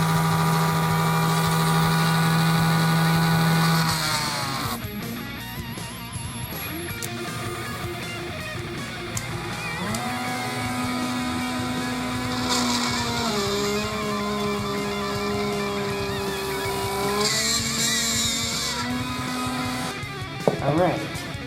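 A power drill bores into a Mechagodzilla model, its motor whining loud and close at a steady pitch that shifts several times as the bit bites and eases, with brief pauses between runs.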